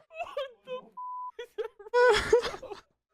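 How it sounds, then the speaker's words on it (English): A single steady electronic phone beep cuts in briefly during talk at a high school exam, followed by loud exclaiming voices. "Excuse me, I believe I told you to silence your phone."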